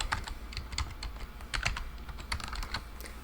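A password being typed on a computer keyboard: quiet, irregular clusters of crisp key clicks close up, with short pauses between bursts and no voices.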